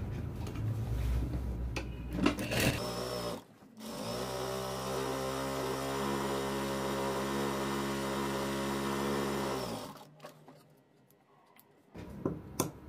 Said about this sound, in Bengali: তারপরে এটাকে ডাবল সেলাই দিতে হবে